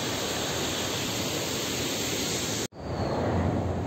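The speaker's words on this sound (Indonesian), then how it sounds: "suara gemericik air." Steady, dense rushing of river water flowing past a riverside house, loud and continuous. The sound cuts out abruptly for a split second, then resumes just as full.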